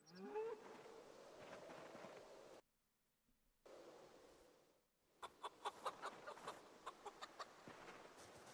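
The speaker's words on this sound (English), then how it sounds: "you made happy chicken noises after I petted you" A chicken in the video game Project Zomboid, just petted, gives a run of quick, evenly spaced soft clucks after a brief silence, close and fairly quiet, with farmyard ambience behind.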